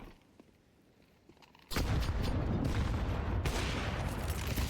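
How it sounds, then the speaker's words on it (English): AK rifle gunfire in Counter-Strike 2 during a competitive match: after a quiet start, a sudden, dense barrage of loud, overlapping shots fills the rest of the clip. "Destiny close here with the AK, and it's all on Misfit"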